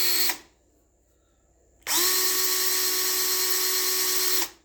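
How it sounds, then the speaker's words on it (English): A power drill spins cleaned motorcycle wheel bearings on a homemade fixture to work in grease, for a 2001 Honda XR100R; a short whir cuts off, then a steady high whine runs for several seconds before stopping. "I made a special little deal to get them to spin on my drill."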